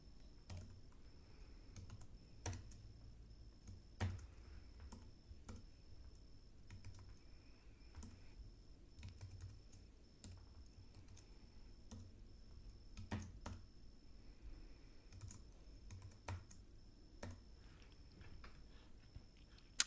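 Computer keyboard typing at a quiet desk while a product code is entered, irregular soft key clicks with a few louder taps over a low room hum.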